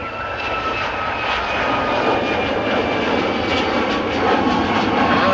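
United Boeing 737 Max 9 jet at Dulles roaring down the runway, a loud, continuous broadband engine rush with a faint whine that swells slightly as it passes, no voices.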